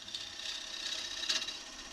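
A wood lathe turns a bowl as a gouge cuts in from the side with its bevel rubbing, giving a steady close hiss of cutting across the whole stretch, with a brief louder swell near the middle.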